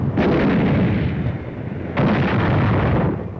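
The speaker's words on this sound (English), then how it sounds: "The long-range German guns were getting hot from throwing shells across the channel." Long-range German guns fire shells across the English Channel in two heavy, rumbling booms, each sustained and loud with a dense low roar, the second starting about two seconds after the first.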